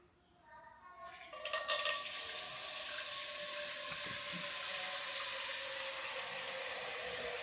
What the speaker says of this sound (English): I'll be putting my water inside the pot and let it boil